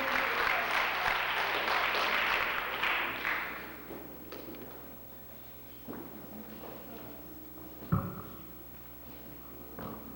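Church congregation applauding at a missionary service inauguration, a burst of clapping that fades out after a few seconds, followed by quieter room noise with scattered thumps and footsteps.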